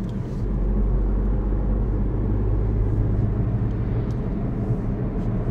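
A 2023 Ford Puma 1.0 with 125 hp and a manual gearbox cruising in fourth gear, a steady low engine and road rumble filling the cabin, continuous and fairly loud with no talk over it.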